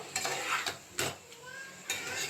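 A utensil scrapes and clinks against a pan of paneer in a few separate strokes, with a faint sizzle underneath.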